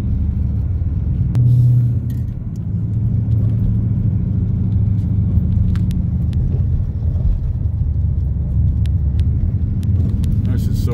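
A 1960s-style Saab 96 with a front-wheel-drive V4, followed on the road from another car, heard as a steady low rumble of engine and road noise with a brief louder surge, while someone talks over it.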